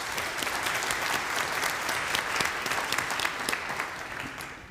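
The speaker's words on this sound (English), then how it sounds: "give yourself a round of applause" A church congregation at a Sunday service gives a warm round of applause, thick and continuous, tapering off toward the end.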